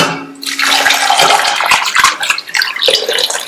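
Water splashes and pours into a pressure cooker holding washed potatoes, a loud rushing stream with gurgles and bright clinks of the pot, broken by a few sharp knocks.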